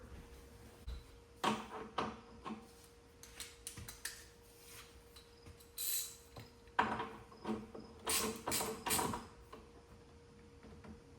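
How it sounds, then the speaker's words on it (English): Metal-on-metal clicks and ratcheting creaks from a wrench tightening cable connections on an inverter, arriving in short irregular bursts close by, with a steady faint hum underneath and no talking. "And now let's tighten the cables going to our inverter."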